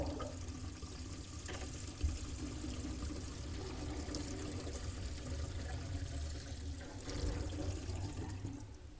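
Steady rushing and gurgling of water draining from a bathroom or kitchen sink after a half-full pressure test of newly installed faucet plumbing, a continuous close wash of sound with no talking.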